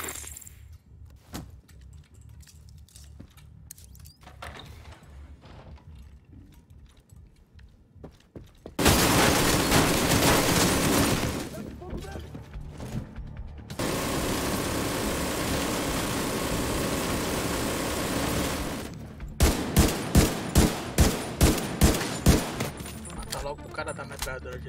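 An ammunition depot blown up in the shooter game The Division 2 gives off a long roaring burst and a sustained crackling rumble of cooking-off rounds. A run of sharp, regularly spaced pops and scattered shots follows, loud and close.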